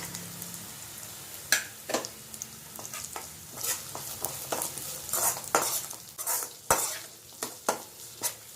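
Chopped onion, ginger chips and garlic sauté in a pan for a fish curry, a spoon stirring and scraping against the metal in irregular clatters over a soft, steady sizzle, close and alone with no talking.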